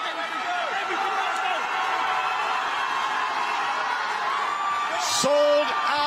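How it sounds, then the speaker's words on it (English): A packed arena crowd at a bare knuckle boxing event in Wolverhampton, England, roars and cheers steadily throughout, a dense wall of voices with whoops rising near the end. "Listen to the crowd."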